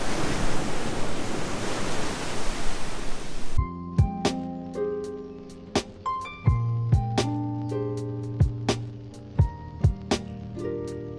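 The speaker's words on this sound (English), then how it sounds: "And the waves are huge." Huge ocean waves at Uluwatu beach in Bali make a dense, roaring surf wash for a few seconds before it cuts abruptly to music.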